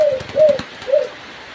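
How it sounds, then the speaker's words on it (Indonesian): Spotted dove (tekukur) cooing close by, three distinct low, slightly rising coo notes in an uneven rhythm, with faint background clatter and no talk. "ini adalah burung tekuku ya"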